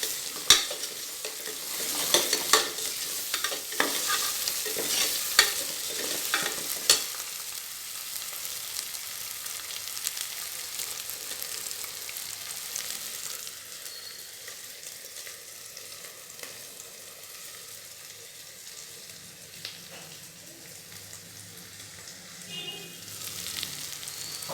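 Beaten eggs fry in a pan over ginger garlic paste, stirred steadily: busy scraping and clattering with bright sizzle in the first seconds, then a softer continuous frying hiss to the end, no voices.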